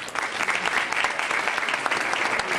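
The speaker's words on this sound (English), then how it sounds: "Let's give Commissioner Hicks another round of applause" A conference audience applauds after a keynote at an African American conference on disabilities, giving a dense, steady burst of clapping that fills the short clip.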